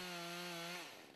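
A chainsaw runs with a steady buzzing drone as teak trees are logged in Sudan, loud and close, then dropping in pitch near the end as the engine eases off.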